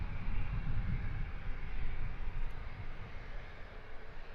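A Jet2 Airbus at Luton Airport gives off a broad, steady roar of jet engines that stays fairly constant and slightly distant, with no voices.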